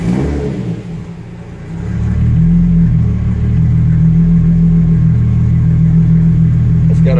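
Mazdaspeed3 engine cold-starting with a low rumble, then settling into a steady, loud idle close by, with no speech over it.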